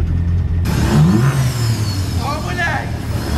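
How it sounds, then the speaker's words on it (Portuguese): A Nissan 240SX with its air filter box removed revs hard, the engine note climbing and falling while the turbo spools up, loud and close, with someone talking over it. "Carrega a turbina, viu? Ó o barulhinho."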